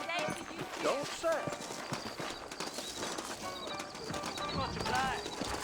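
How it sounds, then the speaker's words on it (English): Horse hooves clip-clopping on ground in the video game Red Dead Redemption, a loose irregular trot of hoof knocks running under continuous spoken dialogue and light background music. "You ain't gonna find sturdier horses than these in all of New Ulster"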